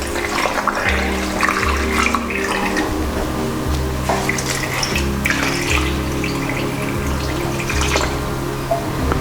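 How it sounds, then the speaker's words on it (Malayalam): Water is poured steadily over mangoes in a cooker while making homemade mango wine, a continuous splashing rush with a repeating low pulse underneath, fairly loud throughout. "അപ്പോൾ അതായത് 2 ലിറ്ററോളം വെള്ളം ഒഴിച്ചിട്ടുണ്ട്."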